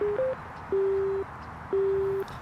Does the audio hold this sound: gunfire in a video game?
no